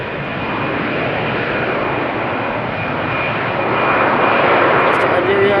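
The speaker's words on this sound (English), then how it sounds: "TUI 7878 Dreamliner, which will be flying to Turkey" A TUI Boeing 787 Dreamliner jet at Amsterdam Schiphol Airport, a loud continuous engine roar that swells slightly toward the end, with a voice talking over it.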